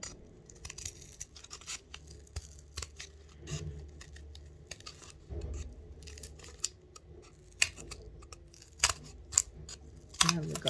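Scissors make a series of short, crisp snips while notches are cut around a fabric circle for a drink coaster, with irregular pauses between cuts and quiet handling noise.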